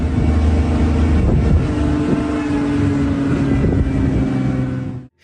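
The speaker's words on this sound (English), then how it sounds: "The forest echoed with the sounds of the car's engine" A car engine roars steadily at close range during a chase after a rhino through a forest, a loud sustained drone with rough mechanical texture that holds for several seconds before cutting off abruptly.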